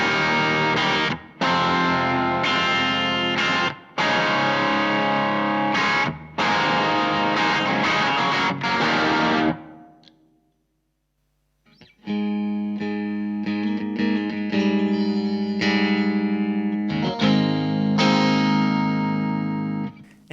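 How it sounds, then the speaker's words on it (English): An electric guitar plays through a Boss IR-2 pedal, first in strummed chords with brief gaps, then in a cleaner picked passage after a short pause, all with a processed, reverberant amp tone. "I'm going through a very clean tone to a pretty distorted one"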